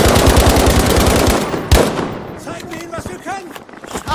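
Rapid machine-gun bursts and gunfire from Battlefield V on PS4, loud and dense at first, then a sharp blast and scattered shots with voices talking over them.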